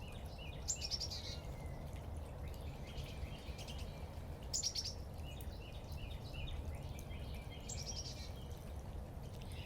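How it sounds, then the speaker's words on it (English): Backyard birds sing in repeated bright chirping bursts at moderate distance, recurring every few seconds over a steady low rumble of background noise, with no voices. "Their bird song is getting so loud and complex."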